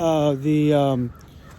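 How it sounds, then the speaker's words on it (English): Two loud, drawn-out harmonic calls sound from a bird identified as a crow, close and clear, the second longer and ending abruptly into quiet background. "I hear crows."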